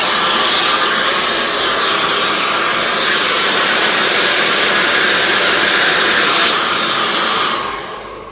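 A handheld hair dryer blows loudly and steadily while hair is blow-dried straight, a constant close whooshing roar with slight shifts in airflow, winding down at the end, no talking.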